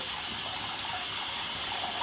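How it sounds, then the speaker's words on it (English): Tap water runs steadily into a sink, warming up before a safety razor shave. A continuous, even rushing hiss holds throughout with no voices. "what I'm doing now is I'm warming up the water"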